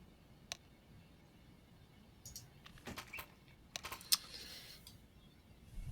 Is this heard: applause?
no